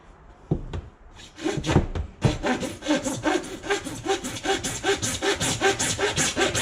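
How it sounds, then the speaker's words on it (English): A hand saw cuts through PVC pipe during a water heater replacement, with close, loud back-and-forth strokes settling into a quick, regular rhythm after a few hesitant starts. "we're just gonna cut our pipe here, PVC"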